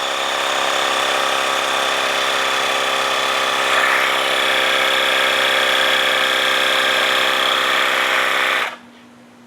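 A Quikra cordless dual-cylinder portable air compressor for heavy-duty vehicles pumps with a loud, steady mechanical buzz and hum that holds constant, then cuts off abruptly near the end, leaving near silence.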